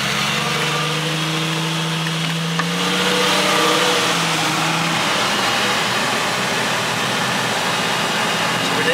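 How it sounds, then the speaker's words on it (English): A 1998 Jeep engine revs up from a low idle, its tone climbing and holding at a steady, loud drone close by. "Yeah, go and give her a rev."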